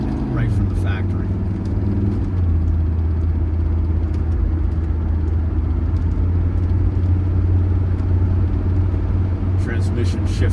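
A 1979 Mercedes-Benz 300SD drives steadily with a constant engine drone and road rumble inside the cabin, the pitch stepping down near the start as the transmission shifts, and a few faint clicks.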